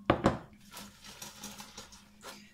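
A spoon stirs fava beans in a cocotte, starting with two sharp metallic clinks against the pot and followed by softer scraping and tapping sounds, close and fairly quiet.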